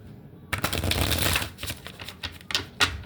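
Tarot cards being shuffled close up, a dense riffling flutter followed by a few shorter bursts of card flicks and taps.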